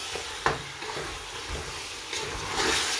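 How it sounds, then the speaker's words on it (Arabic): Barkoukes with saffron is stirred in a pot, with soft scraping strokes and a gentle sizzle that swell toward the end, heard close with no talking. "نبقى نخلط"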